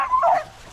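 A hunting dog on a rabbit hunt gives a single short, loud, close bark or yelp that fades quickly.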